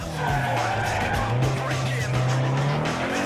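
Engine drone of a tuned street car in Need for Speed Underground 2, steady and loud, with tires squealing in a long skid through a tight bend.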